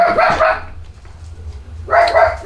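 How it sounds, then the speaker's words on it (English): Two loud, close dog barks, one at the start and another about two seconds later, separated by a quiet pause. "sorry about that, that was Toby barking"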